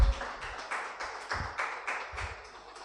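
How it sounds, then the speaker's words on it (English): A small group at a press and public engagement event gives a round of applause, with sparse, distinct claps in an uneven rhythm, fairly quiet and close. "A round of applause once again."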